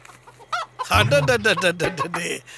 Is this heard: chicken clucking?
yes